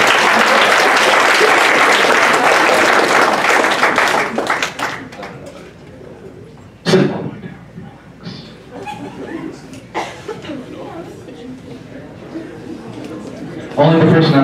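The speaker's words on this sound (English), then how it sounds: "Give them a round of applause." A high school comedy hypnosis show audience bursts into loud applause that fades after a few seconds, followed by scattered chuckles, chatter and sporadic claps in a large room.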